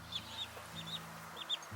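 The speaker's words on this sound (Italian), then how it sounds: "Qua c'è la gallina marrone e qua la gallina nera." Brown and black hens cluck softly in a garden, with short high clucks repeating irregularly over a low steady hum in the background.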